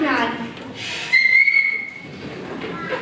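A cartoon bat whistles an SOS signal: one sustained, piercing whistle tone held for about a second, preceded and followed by animated voices speaking.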